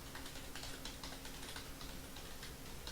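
Steady, fast typing on a computer keyboard, dense overlapping key clicks running continuously at close range with no talk.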